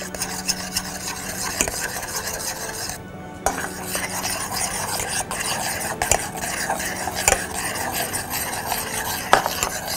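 Spoon stirring gelatin into boiling strawberries and sugar in a pot, continuous close scraping and clinking against the pan over a soft bubbling simmer, with no talking.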